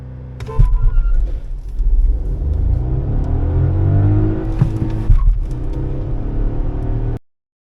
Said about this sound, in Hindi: ये होंडा सिटी भागती हुई